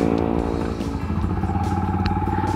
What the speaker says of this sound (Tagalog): So start tayo ng motor